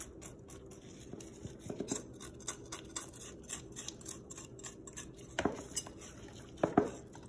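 A knife scrapes scales off a whole fish in slow, rough strokes, with soft scratchy rasps and a few sharper clicks of the blade against the skin, close and fairly quiet.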